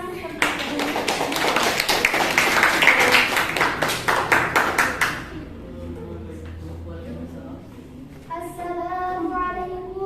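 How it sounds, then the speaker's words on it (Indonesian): An audience applauds a student speaker at a school persuasive-speech lesson, a loud burst of clapping for about five seconds that fades out, followed by a quieter room and a voice speaking near the end. "Kita beri tepuk tangan untuk"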